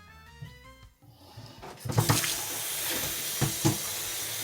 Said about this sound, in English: Okay, so now we're just gonna rinse the beans.